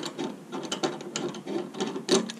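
A rivet nut tool's handle squeezed to set a rivet nut during an E30 aero kit install, producing a close, rapid run of ratcheting mechanical clicks and grinding gear-like rasps that rise and fall over a couple of seconds.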